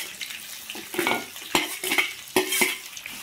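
Chopped onion and green chilli sizzling in a pan while being stirred, with repeated sharp scraping strokes of a spatula against the metal at a close, uneven rhythm and no talking.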